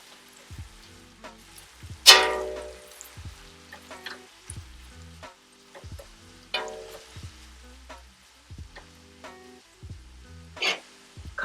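Sliced leek stirred in a hot pot for seafood chowder, with soft intermittent sizzling and several sharp scraping or clanking stir strokes at irregular intervals, no voices.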